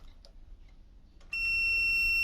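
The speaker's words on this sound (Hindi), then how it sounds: "बजर का आवाज़ आया, मतलब सेकेंडरी वाइंडिंग भी ठीक है।" A multimeter's continuity buzzer, probing the secondary winding of a microwave oven transformer during a repair, cuts in after a quiet moment with a loud, steady high-pitched tone that holds to the end.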